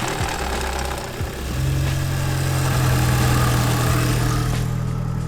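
A cheap used Volkswagen Golf GTI engine cranks and catches, then settles into a steady, even idle with a low droning hum close by, with no talking.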